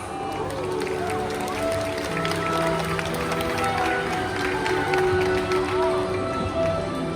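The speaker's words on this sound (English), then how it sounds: "Let's give them a big round of applause." An outdoor amphitheater audience at a bird show gives a sustained round of applause, a dense wash of many hands clapping at moderate distance with crowd murmur underneath.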